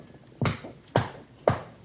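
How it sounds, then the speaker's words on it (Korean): Three sharp claps, evenly spaced about half a second apart, close and crisp in a quiet room. "박수 치는 거."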